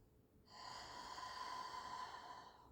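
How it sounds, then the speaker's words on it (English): One slow, soft inhale through the nose during a sidelying hamstring tilt exercise, a faint airy hiss lasting about two seconds in a quiet room. "Breathe in through the nose."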